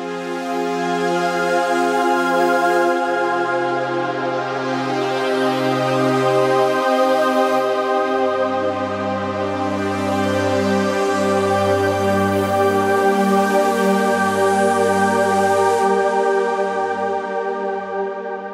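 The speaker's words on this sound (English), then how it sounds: "Let's play with the filter some more and add delay and reverb." A sustained synthesizer drone with shifting low notes and a filter sweeping the bright upper tones, trailing into spacious echoes and reverb.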